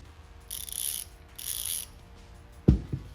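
Two bursts of fast, buzzing ratchet clicking from a Hassns Pro MTB freewheel hub's pawls, quiet and close, followed by a couple of dull mechanical knocks.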